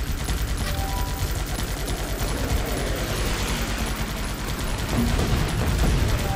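Artillery bombardment and gunfire in the video game Guns Up, a dense continuous roar of rapid shots and rumbling blasts that swells slightly louder near the end.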